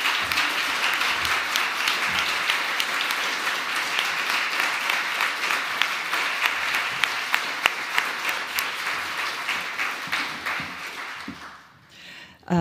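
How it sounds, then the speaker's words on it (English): Audience applause for nominees at the 2021 Australian of the Year Awards ceremony in the Australian Capital Territory, steady, full-room clapping with a few sharp claps standing out, sustained for several seconds before dying away. "Please acknowledge them with a round of applause."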